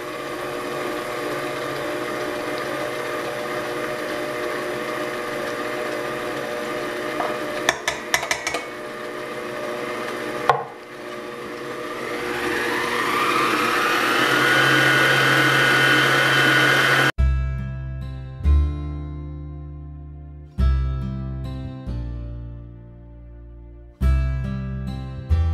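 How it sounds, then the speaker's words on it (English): A kitchen stand mixer works dinner roll dough made from scratch with active dry yeast and egg, a steady motor whir building for several seconds, then heavier thumping churns and pauses as the dough slaps around the bowl nearby. "you cut your mixer on and you start making the dough"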